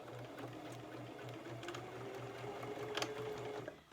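A sewing machine runs a quarter-inch seam at the edge of fabric, its needle thumping in a fast, steady rhythm close by with a faint rising whine, then slowing at the end.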